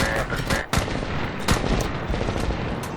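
Gunfire from the Medal of Honor (2010) video game during a Taliban airfield assault: loud, close shots and bursts crack over a dense stream of battle noise.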